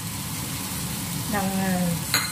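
Jackfruit curry with spices and added coriander powder frying in a pan, giving a steady close sizzle with stirring, a brief low scraping tone near the end and a short sharp clink at the finish.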